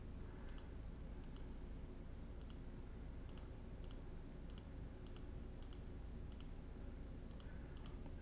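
A computer mouse clicks while drawing a shape with a pen tool, giving about a dozen soft single and double clicks at irregular intervals over faint background hiss, quiet and close with no talk.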